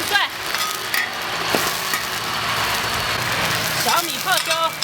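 Ginger, garlic and pickled millet chilies stir-fried in a wok, giving a loud, dense, continuous sizzle with stirring scrapes while someone talks over it.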